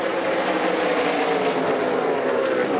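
NASCAR K&N Pro Series East race cars racing at Dover International Speedway, a steady loud roar of several engines running together at close range with no break.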